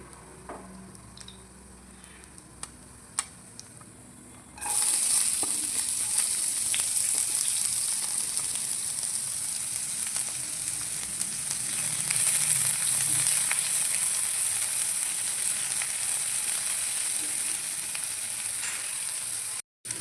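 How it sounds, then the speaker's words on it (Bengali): Onions sizzle and crackle steadily in hot oil with garlic after a quieter opening, frying until lightly browned, a continuous close hiss with occasional stirring scrapes. "পেঁয়াজটা হালকা লাল লাল করে ভাজা হয়ে গেছে"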